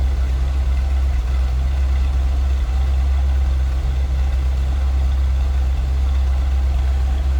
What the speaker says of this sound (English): 390's got a little bit of rumble to it